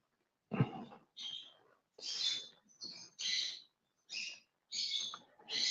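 Pet birds squeak and squawk in short, repeated bursts of high chirping, fairly close indoors, with brief pauses between calls.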